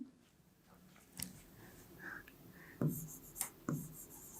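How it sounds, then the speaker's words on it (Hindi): A pen writes on paper during a maths lesson, soft scratchy strokes with a few sharper taps and clicks, close but quiet, no voices. "तो चलिए लिखते हैं"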